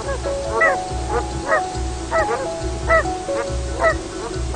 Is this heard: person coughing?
no